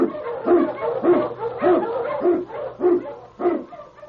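An Eskimo lead sled dog barks in a steady series of about seven clear, evenly spaced woofs, close and loud, with no talking over them.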